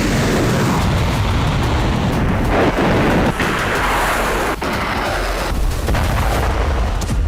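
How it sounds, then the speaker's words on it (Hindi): Barrage of Burkan missiles fired by Hezbollah fighters, heard as a dense, continuous roar of blasts and rumbling booms with no pauses, loud and distant-sounding throughout. "हिजबुल्लाह के लड़ाकों ने यहां कम से कम 1 दर्जन बुरकान मिसाइलें दागी।"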